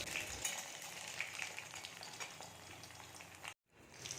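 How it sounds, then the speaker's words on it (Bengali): Chicken nuggets fry in a pan with a steady, soft sizzle and bubbling that runs throughout, then cuts out briefly near the end. "তো সেটাও একটু আমাদের ভেজে নিচ্ছি সবাই মিলে"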